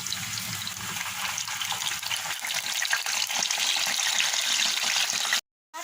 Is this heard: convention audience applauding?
no